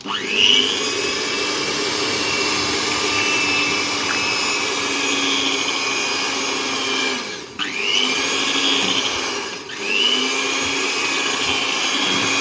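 Homemade olive oil soap being mixed with an electric stick blender, a loud steady whine that runs almost the whole time and dips briefly twice as the motor is restarted.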